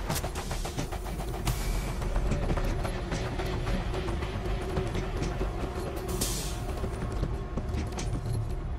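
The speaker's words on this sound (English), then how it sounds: "We could punch through with the train." A train rolls along tracks in the co-op shooter World War Z, a steady rumble with rhythmic rattling and clanking throughout, plus brief metallic bursts.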